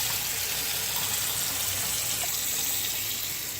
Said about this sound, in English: And then you're going to want to turn on the hot water.